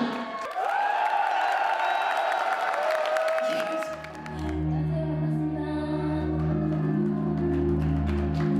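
A studio audience applauds and cheers as singer Jeong Mi-ae is welcomed on stage, a dense wash of clapping that fades after a few seconds, giving way to a band's sustained music.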